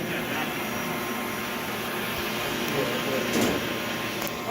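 A vacuum pump runs steadily while evacuating a refrigeration system during a lab class, giving a constant droning hiss with faint voices in the room.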